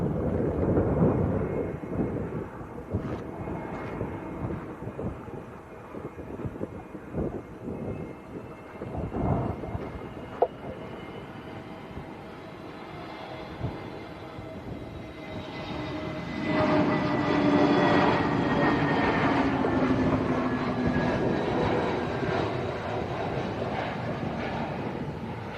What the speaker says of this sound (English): So this is an A320neo from Birmingham.